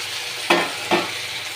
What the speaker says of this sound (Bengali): এবার আমি এতে হাফ চামচ হলুদ দিয়ে দিলাম, আদা রসুনের পেস্টটা সবটাই দিয়ে দিলাম